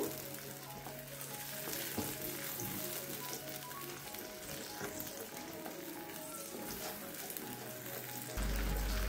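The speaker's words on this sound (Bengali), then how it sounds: "তেলের সঙ্গে সমস্ত মশলা খুব ভালো করে আমি নাড়িয়ে নেব" Spice paste sizzles in hot oil while being stirred, a continuous crackling fry with occasional scraping and clinking from the spoon against the pan.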